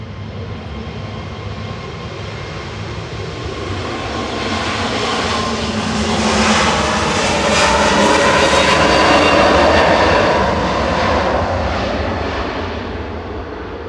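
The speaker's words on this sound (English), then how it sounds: "That's an A321 Neo, delivered in July 22." Air Transat Airbus A321neo jet departing Manchester Airport for Toronto, its engine roar swelling from a moderate rumble to a loud, broad peak mid-clip before easing slightly, with no voices.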